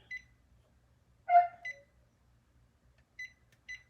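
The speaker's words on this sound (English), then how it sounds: "we need to set my oven to 350." Short electronic beeps from an appliance keypad sound at intervals, single chirps with one longer tone, in an otherwise quiet room.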